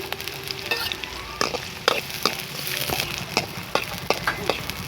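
Green chilies and onions are stirred in a sizzling pan for mutton curry, with a constant frying hiss under repeated sharp spoon scrapes and knocks at an irregular rhythm.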